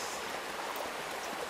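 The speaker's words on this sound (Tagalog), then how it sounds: "Ulan pa din." Rain falls steadily as a soft, even hiss that stays faint and uniform, with no distinct drops or voices.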